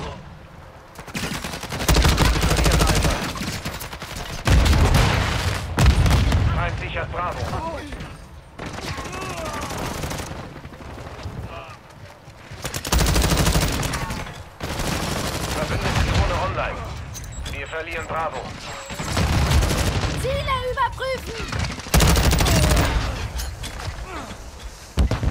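Multiplayer gunfire in Call of Duty Modern Warfare II, loud repeated automatic bursts separated by short pauses, with someone talking over and between the shots.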